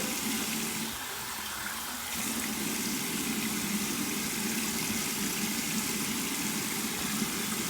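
Tap water runs steadily to rinse shaving cream off a freshly shaved head, a continuous close rushing wash with a low engine-like hum beneath and a slight dip in flow near the start.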